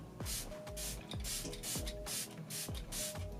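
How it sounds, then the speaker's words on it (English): Quick hissing spritzes from a makeup setting spray bottle misted onto a face, about eight short bursts in an even rhythm, close and soft. "Just going to spray down my face."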